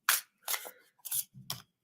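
A tarot card deck is shuffled by hand in four quick, crisp riffling bursts, close up and clear with no talk.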